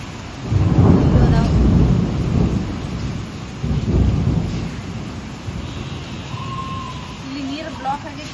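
A hailstorm with rain and thunder: two deep rolling thunder rumbles pass over a constant wash of falling rain, loud and close, before the storm settles into steady rain with a brief tone near the end.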